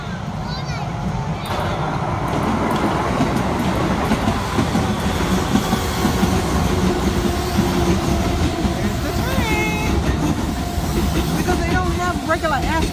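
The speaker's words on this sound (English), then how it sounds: "here comes the train." Train rumbling and clattering past on a Funabashi street in Tokyo at night, loud and sustained with rhythmic wheel clicks and a few high squeals, a voice talking over it.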